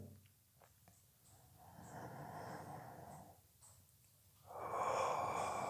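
Slow, deep breaths during a breathing exercise for shortness of breath with COPD, a long inhale-like rush building midway and a louder, airy exhale near the end, close and without speech.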